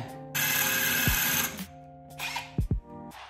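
A power drill whines and grinds in bursts drilling through weld on a Toyota Soarer/Lexus SC400 wheel stud, stopping and restarting, with sharp knocks and clunks between runs; close by, no talking.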